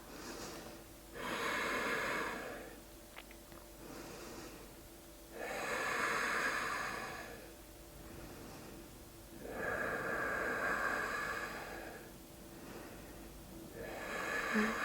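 Slow, deep breathing during a yoga pose: four long audible breaths, each a few seconds long with pauses between, close and breathy.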